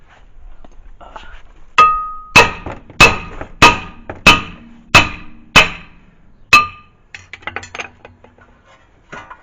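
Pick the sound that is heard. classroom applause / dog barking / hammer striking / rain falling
hammer striking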